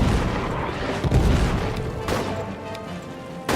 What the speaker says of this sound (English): Heads down, artillery.